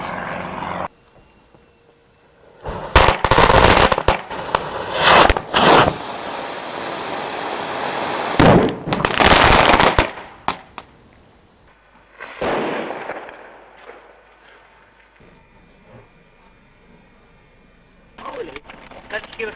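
Several loud firecracker-like blasts go off in bursts, each one dense and crackling, with a long sustained barrage in the middle and quieter gaps between. Voices are heard faintly in the lulls.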